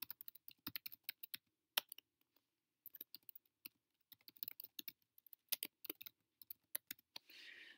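Fingers tap quickly on a computer keyboard in short bursts of clicking keys with brief pauses, close and quiet, in an otherwise silent room.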